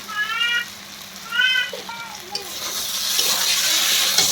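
A spoon stirs taro stolon curry in a pan with a gentle sizzle. A voice speaks over the first half, and the frying hiss grows steadier toward the end.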